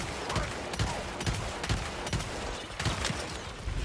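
A turret in the video game Eternal fires rapid repeated shots, a steady, fairly faint stream of gunfire cracks at regular intervals with no talking over it.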